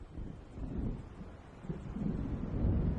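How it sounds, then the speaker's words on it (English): Low rolling thunder of an approaching storm in the video game Alan Wake Remastered, a faint, deep rumble that swells toward the end with a windy hiss. "It seems there's a storm coming."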